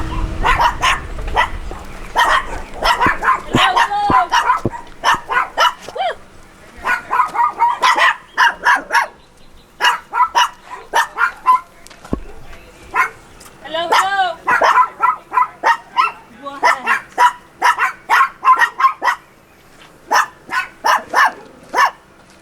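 Free-roaming stray dogs bark in repeated sharp bursts outdoors, close and loud, with people talking between and over the barks.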